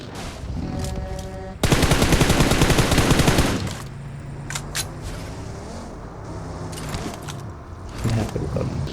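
Video game gunfire erupts in a dense automatic burst lasting about two seconds, flanked by quieter clicks, scattered shots and game effects.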